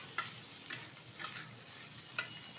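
Prawns and chopped eggplant fry in a pan with neem leaves, giving a steady soft sizzle. Four sharp clicks of stirring or a utensil against the pan punctuate it at regular intervals.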